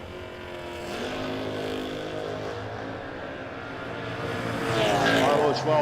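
Drag race cars, including a 5th gen Camaro, roar at a no-box 660 shootout, a sustained loud engine drone that swells louder near the end, with announcer talk mixed in.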